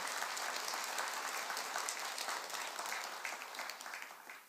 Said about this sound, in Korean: 박수를 굉장히 점잖게 치는 것 같아요